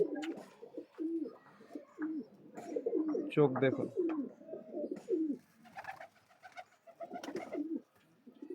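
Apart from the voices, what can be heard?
pigeons cooing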